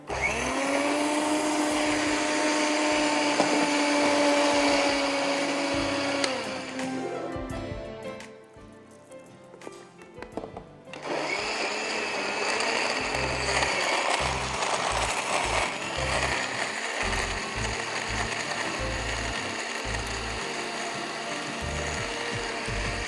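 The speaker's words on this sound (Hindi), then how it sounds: "And blend this all together." A kitchen blender whirs loudly, blending carrots with orange-flavoured drink mix and a little water into a smoothie. It runs for several seconds, pauses briefly, then starts again and keeps churning steadily to the end, with no talking.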